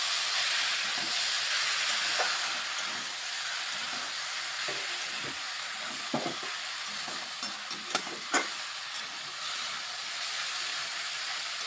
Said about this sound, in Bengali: ভালোভাবে একটু রাঙ্গালুকে ভেজে নিচ্ছি।